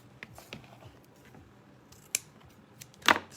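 Scissors snip through ribbon while a Valentine's Day bow is made on a bow maker: one crisp cut stands out near the end, with a sharp earlier click and soft handling rustle before it.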